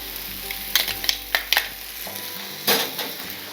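Garlic dropped into a hot pan with browning onions, sizzling and stirred with a utensil, giving a few soft clinks and scrapes and a brief louder hiss burst near the end, no talk.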